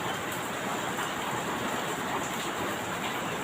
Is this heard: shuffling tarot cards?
no